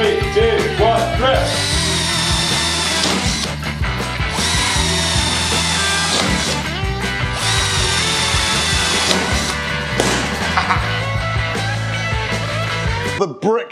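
Two cordless drills, a Bosch and a Black and Decker, run in hammer mode driving new 5.5 mm masonry bits into brick, with a loud continuous buzzing whine and chatter. Someone talks over the drilling.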